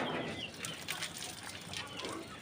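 Chickens clucking and flapping on an evening farmyard, a steady busy cackle of fowl at moderate distance with no talk over it.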